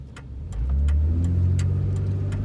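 A 1999 Ford Explorer Sport two-door truck driving around town, its engine note rising in a smooth, steady hum as it pulls away, heard close from inside the cabin.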